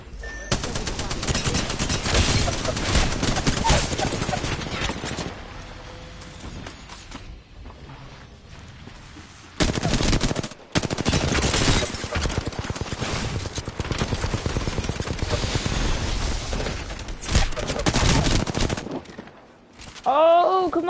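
Dense, loud automatic gunfire from Apex Legends, with long sustained bursts and brief pauses, and a voice talking at moments under the shooting.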